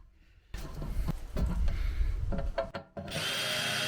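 A power drill bores holes through a plant pot in short loud bursts, the motor revving and dipping as the bit cuts, with a brief pause before a final steady whir.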